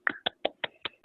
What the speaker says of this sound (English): Just my clapping because of the limitations of Zoom